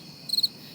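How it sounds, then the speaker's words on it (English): Crickets chirp at night in a short, high trill of three or four quick pulses, moderately loud against a quiet, steady background hiss. "A lone wolf howls in the distance as crickets chirp near the lit windows of a decrepit mansion."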